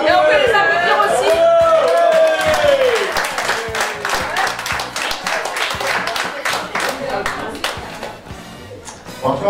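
Wedding guests applaud with lively clapping and crowd chatter, and voices call out over the noise at the start before the applause thins toward the end.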